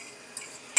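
Breakfast pizza ingredients tipped into a hot pan with eggs, making a steady close sizzle with light stirring scrapes and a bright clink of a utensil at the end, no voices.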